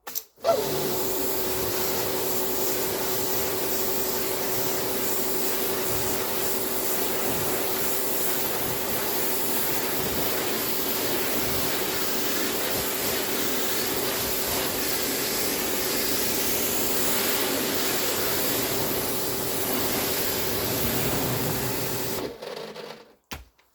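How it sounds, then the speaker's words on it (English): Pressure washer jet spraying down a caravan, a steady loud hissing roar with a constant motor hum, running unbroken for about twenty seconds before cutting off at the end. "let's get this jet washed off"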